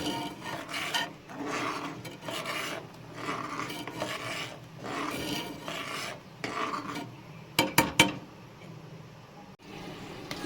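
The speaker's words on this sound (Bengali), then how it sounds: "এবার একটা চামচ দিয়ে ভালোভাবে এটাকে নাড়িয়ে নেব" A spoon stirs rice in milk in a pot for a rice pudding, making steady rasping scrapes against the pan in repeated strokes, followed by a few quick metallic clinks near the end.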